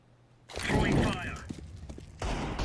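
An incendiary grenade thrown in a tactical shooter on a map with connector and jungle areas, a sudden loud burst of crackling, whooshing noise that lingers for about two seconds, then a second burst starts near the end.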